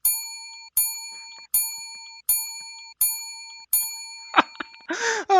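A bell used as a podcast sound effect rings six times at an even pace with clear, bright ringing tones, followed by a brief rustle and a short burst of voice.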